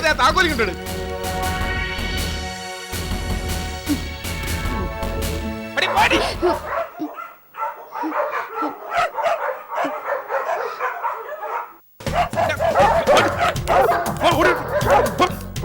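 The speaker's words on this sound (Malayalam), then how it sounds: "അലഞ്ഞു തിരിഞ്ഞ് നടക്കണ പട്ടികൾ കംപ്ലീറ്റ് ഇതിനകത്ത് കയറിക്കളഞ്ഞു" Several stray dogs bark and yip inside a locked, gated compound, a rapid run of close, loud barks and whimpers, with people talking over parts of it and music in places.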